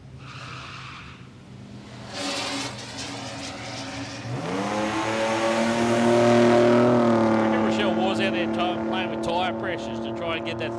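Drag race car at Palmyra Raceway launching hard off the start line with wheelspin, a rising engine roar and tire squeal that builds and sustains loudly over crowd and announcer ambience.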